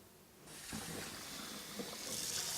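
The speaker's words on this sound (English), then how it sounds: "you're going to put the eggs in super cold water." Cold water for cooling soft-boiled eggs gushes from a tap into a sink. It starts abruptly after a brief quiet moment and then runs as a steady, close splashing stream.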